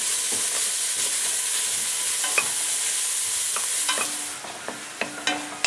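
Butter sizzling in a pan with chuck roast vegetables, a bright steady hiss that fades partway through, followed by sharp spoon clicks and scrapes as the food is stirred up close.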